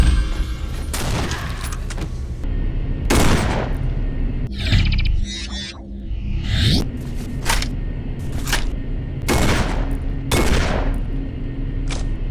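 Shotgun blasts in a first-person shooter video game, roughly seven loud sharp booms spaced a second or two apart over a continuous background din, with a few mechanical reload-like clicks between shots.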